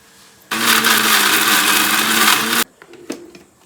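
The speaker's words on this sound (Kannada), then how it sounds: "ಈಗ ಮಿಕ್ಸಿ ಜಾರಿಗೆ ಹುರ್ಕೊಂಡಿರೋದನ್ನೆಲ್ಲ ಆರಿಸ್ಕೊಂಡು ಹಾಕ್ಕೊಳ್ಬೇಕು" Mixer grinder whirring loudly as it blends roasted masala into a paste with added water, a steady two-second burst that cuts off abruptly, followed by small clinks and handling sounds.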